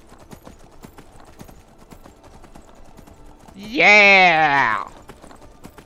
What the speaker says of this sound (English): Alright, horse of mine. Let us ride onward to glory!